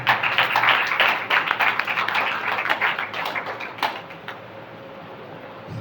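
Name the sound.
congregation clapping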